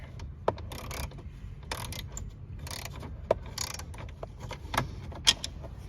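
A screw is undone from a dash panel on a 2010-2012 Ford Taurus, giving scattered close clicks and short scraping bursts of plastic and metal over a low background hum.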